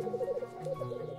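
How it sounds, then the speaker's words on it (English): A male black grouse gives its bubbling courtship call, a rolling, cooing warble repeated in short pulses, fairly close and alone in spring breeding grounds. "Males woo the ladies with a bubbling sound called rukuing."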